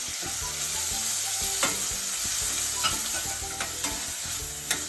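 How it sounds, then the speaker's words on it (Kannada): Chopped tomato and carrot frying in a pan with peanuts for avalakki bisibele bath, a steady close sizzle punctuated by a few sharp stirring clacks, with no talking. "ಹೆಚ್ಚಿದ ಟೊಮೆಟೊ ಹಾಕ್ತಾ ಇದ್ದೀನಿ."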